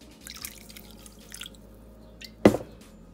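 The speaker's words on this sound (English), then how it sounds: "put some apple cider vinegar in it" Apple cider vinegar is poured into sea moss in a quiet kitchen. Faint liquid trickles are followed by one short, distinct splash near the end.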